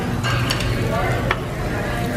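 Beef briskets cooking give a steady, dense sizzle with a low rumble underneath, loud and continuous, with a couple of faint clinks.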